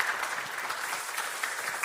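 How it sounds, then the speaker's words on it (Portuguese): Audience applause fills a panel session on territory, speech and defending life, a steady dense clapping that holds evenly throughout without voices. "Uma salva de palmas"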